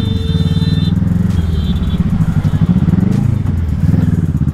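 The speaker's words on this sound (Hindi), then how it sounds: "मैं हल्का सा भी क्लच को ही छोड़ता हूँ तो काफ़ी ज़्यादा बाइक भागती है" A 2019 Kawasaki 1000 cc motorcycle engine runs loud and close, its deep pulsing exhaust note rising as the clutch is eased out and the bike pulls away, with a brief mechanical clatter mid-run and no voices.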